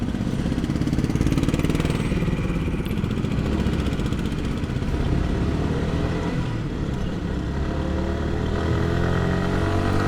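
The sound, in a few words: motorcycle riding through city traffic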